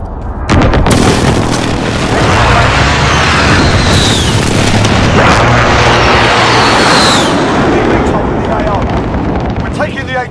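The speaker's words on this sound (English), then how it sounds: "Be advised, friendly precision airstrike inbound." Precision airstrike explosions hit in Call of Duty Modern Warfare: heavy, loud, close blasts roll into one another in a continuous rumbling barrage for about ten seconds, with voices faintly underneath.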